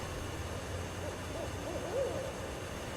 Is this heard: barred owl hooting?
yes